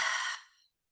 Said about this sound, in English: And breathing out through the mouth.